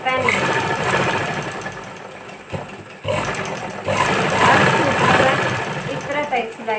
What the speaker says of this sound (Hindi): एक पैर का मार्जिन रख कर बाहर तक सिलाई लगा